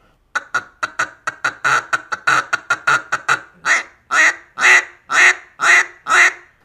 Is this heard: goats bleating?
no